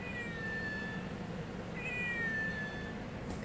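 Two drawn-out cat meows, each a falling, whistly cry, over a steady low background hum, with a short gap between them.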